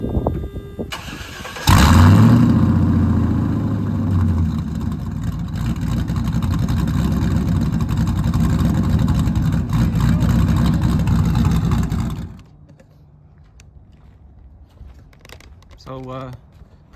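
A 1959 Ford F-100 truck on a base, untuned tune cranks and fires up, then its engine runs loud and close with a rough, steady rumble for about ten seconds before cutting off, followed by quieter background noise.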